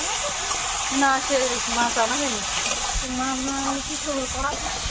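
Fish coated in salt and turmeric frying in oil gives a steady, close hiss and sizzle throughout, with a voice talking over it.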